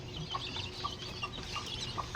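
Bulik gamefowl rooster with a straight comb clucking softly at close range over low background rumble, a few short clucks spread across the moment.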